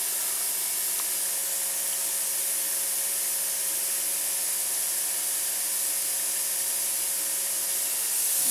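Steady broadband hiss of compressed air from a compressor running through an airbrush in a CNC milling workshop, continuous and fairly loud with a faint low hum underneath.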